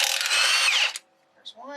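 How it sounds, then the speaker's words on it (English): An impact wrench spins off the bottom bolts on an FJ Cruiser, a loud continuous burst of just under a second that ends abruptly, followed by quiet and a short voice. "you do have to hold this when you do the impact on the bottom bolts here"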